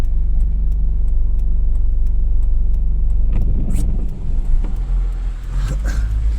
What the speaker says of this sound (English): Oh, look at all the traffic today.